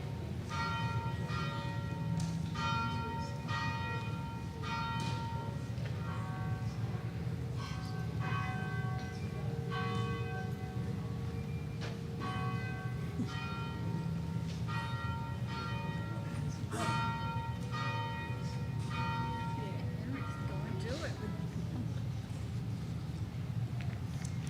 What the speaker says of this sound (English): let's thank Henry for that vigorous bell ringing.